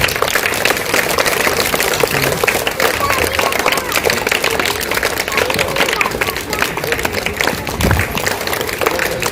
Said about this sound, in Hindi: तालियां बजाते रहे, तेज आवाज में तालियां बजनी रहनी चाहिए।